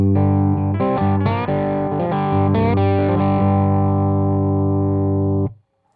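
Lap steel guitar driven through a Keeley distortion pedal plays loud, sustained overdriven chords with slides and bends, ringing out for about five seconds before cutting off abruptly into silence.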